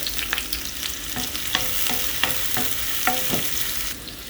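Sliced onion frying in ghee with cardamom, cloves, cinnamon, bay leaf and black pepper, a bright continuous sizzle broken by sharp scrapes of a spoon stirring against the pan, close up with no voices.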